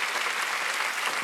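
A church congregation at a Sunday worship service claps together in a dense, even burst of applause that fills the short moment before it cuts off abruptly.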